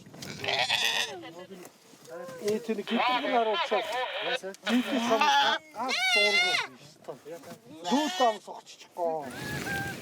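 Several cashmere goats bleat loudly and repeatedly at close range in the Mongolian Gobi, their wavering cries overlapping in a noisy, insistent chorus.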